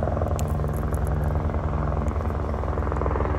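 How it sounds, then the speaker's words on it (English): A police helicopter flies overhead, its steady, loud rotor and engine drone running unbroken through the whole stretch. "Police helicopter."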